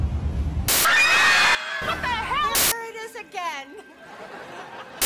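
Kids let out loud, piercing screams in two long shrieks, separated by a short gap, followed by excited voices and laughter.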